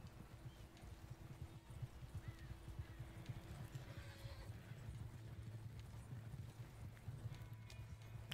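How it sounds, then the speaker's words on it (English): Horse hooves clip-clopping along a path in the Red Dead Redemption 2 video game, a quiet, rapid run of steps that continues throughout at a low level. "And my horse is following me,"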